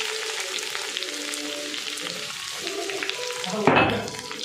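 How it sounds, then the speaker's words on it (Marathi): A ground paste of coconut, garlic and coriander sautéed in hot oil with curry leaves for a traditional Bhogi mixed vegetable dish gives a steady close sizzle, ending in a sudden loud burst of spattering as it hits the pan. "हे जे वाटण करून घेतलेलं होतं खोबरं, लसूण आणि कोथिंबीर हे टाकून घेते मी"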